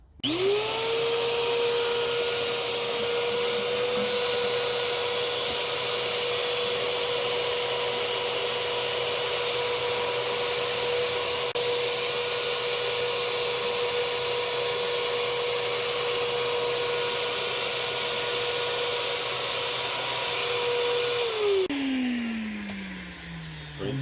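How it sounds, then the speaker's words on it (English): A vacuum cleaner sucks old ash out of the firebox of a miniature steam locomotive, its motor whining up to a steady loud drone held for about twenty seconds before spinning down, close and alone without talk. "Now if you vac out all of the old ash from the last run."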